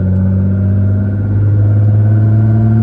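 A 2012 Nissan GT-R Premium, tuned to 1300 horsepower, cruises with a steady, loud low engine drone and road rumble from inside the cabin, continuous throughout without any talk.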